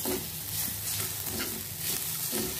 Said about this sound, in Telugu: కొబ్బరి కూడా పచ్చి వాసన పోయేలా వేయించుకుంటున్నాం.